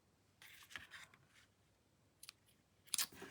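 Scissors snip the ribbon ends on a bow in a few quiet, close, crisp cuts spread across the moment, with sharper clicks near the end and no talking.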